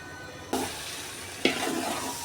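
A spoon scrapes and stirs biryani spices through sizzling food in a pot, two distinct stirring strokes over a steady frying hiss.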